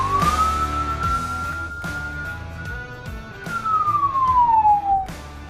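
An ambulance siren sounds a single long electronic tone that rises, holds steady, then slides downward, loud and close over a low engine rumble, with no voices.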